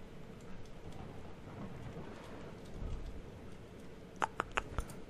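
Thunderstorm in Minecraft with steady rain hiss and low distant thunder rumbles, followed by a few sharp crackling strikes near the end.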